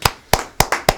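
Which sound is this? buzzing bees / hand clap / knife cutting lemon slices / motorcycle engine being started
hand clap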